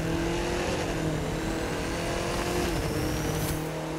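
An Audi TTS in The Crew 2 holds a steady, loud engine drone at speed with a faint rising whine, one continuous run with no pauses.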